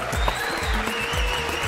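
An audience claps in a steady crowd applause, dense and continuous, with muffled voices and low thumps mixed in beneath.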